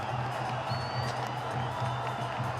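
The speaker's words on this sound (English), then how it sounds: "Everyone in the crowd acknowledging that wicket." A cricket stadium crowd cheers a West Indies wicket with a steady, distant wash of roaring and whooping, and a low rhythmic hum sits underneath throughout.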